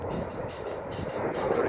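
An RAF military training aircraft passes overhead, a muffled engine roar swelling slightly toward the end, fairly distant and steady.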